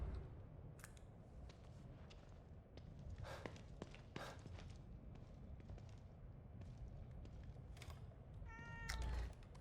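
A cat meows faintly and intermittently in the background under a steady low hum, with one clearer, drawn-out meow near the end.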